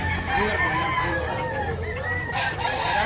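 A grey gamecock rooster crows in a drawn-out, wavering call over a steady background hum, fairly near and clear.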